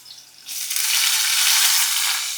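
Garlic and onion drop into hot oil in a home kitchen, bursting into a loud, steady hiss of frying that starts suddenly and holds, close and alone.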